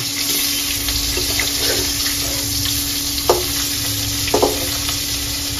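Fish pieces fry in a cooking pot with a steady, close sizzling hiss, broken by a couple of sharp utensil clinks against the pot near the end; no one speaks.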